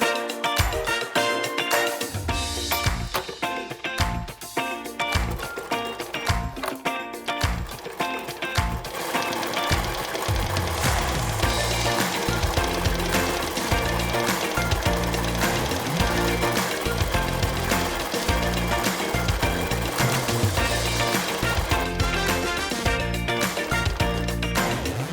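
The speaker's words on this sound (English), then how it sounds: "Now we're going to sew down the sides." A sewing machine runs continuously down the sides of a quilted table runner, a rapid, steady mechanical chatter with a few brief starts and stops at first, close and fairly loud throughout.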